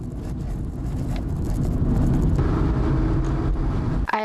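A car driving in Northern Ireland: a steady low engine and road rumble that swells slightly and then ends abruptly with a brief knock.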